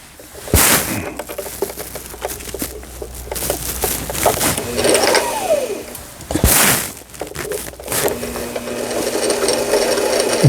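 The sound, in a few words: sewing machine winding bobbin thread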